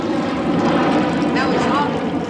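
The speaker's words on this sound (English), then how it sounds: "There's a jumbo jet going over now." A jumbo jet passes overhead above Shepherd's Bush, a broad continuous engine roar that fills the whole stretch while people talk underneath it.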